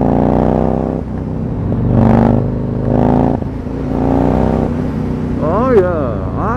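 A Yamaha MT-01 motorcycle engine blips its revs in several short bursts near the listener, then gives a final sharp rising rev. People talk over much of it.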